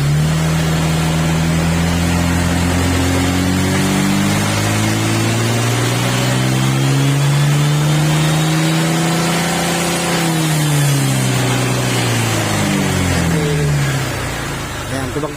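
Honda Click125 scooter engine revving after a remap, the close, loud engine note climbing, holding at high revs and then falling away, with voices talking underneath.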